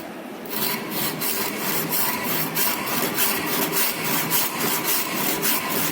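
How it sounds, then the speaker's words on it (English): Handsaw cutting wood for a cross halving joint, a rasping back-and-forth stroke repeating at a steady, quick rhythm, close and fairly loud with no talking. "With the help of handsaw,"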